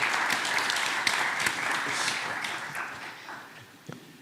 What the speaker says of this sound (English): Can I get a big round of applause for all the speakers?